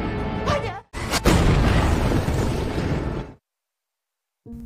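A building explosion in a film about a hose repairman feared by gangsters: a loud, sustained roaring blast with a sharp crack near the start, cutting off abruptly into silence before other sound resumes.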